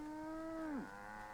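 A brahmin cow in Fallout 4 lets out a single clear, drawn-out moo that drops in pitch at the end, heard alone and fairly close.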